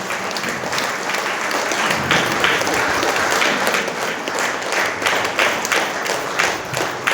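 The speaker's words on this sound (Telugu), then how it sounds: "కూర్చుని అందరూ క్లాప్స్ చేయండి." An audience claps steadily at a Guru Purnima gathering at a pyramid meditation site, a dense, sustained applause with no talk over it.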